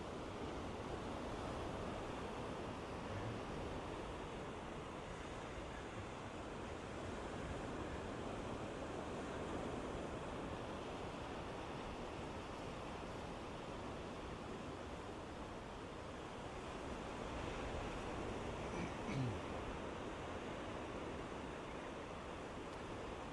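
Ocean surf at Surfers Paradise on the Gold Coast in winter, heard as a continuous broad roar of breaking waves that stays steady and fairly distant, with no voices.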